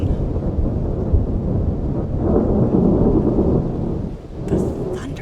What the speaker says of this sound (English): Geeking out over the thunder in the game.